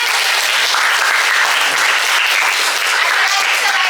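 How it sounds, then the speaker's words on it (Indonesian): Students in a classroom clap together for a classmate's correct answer, a loud, dense, continuous burst of applause from a room full of hands lasting several seconds. "Tepuk tangan."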